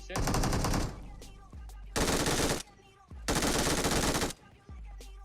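Rapid automatic gunfire in a video game as an enemy is shot, arriving in three long, loud bursts separated by short quiet gaps.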